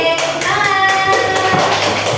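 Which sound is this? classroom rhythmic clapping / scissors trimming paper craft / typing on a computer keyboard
classroom rhythmic clapping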